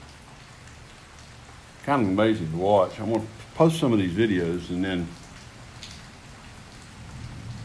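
Steady spring storm rain patters in the background throughout, moderately close, near a highway, while someone speaks for a few seconds in the middle.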